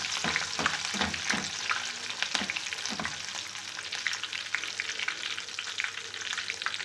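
Curry leaves frying in hot oil for a puffed-rice chivda, a loud continuous crackling sizzle with bursts of stirring near the start, heard close with no talk.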